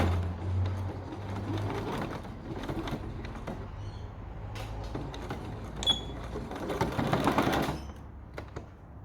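A sewing machine stitches an apron in short, close mechanical runs that pause and restart as the fabric turns at corners, with small clicks and handling noises between runs, fairly quiet overall.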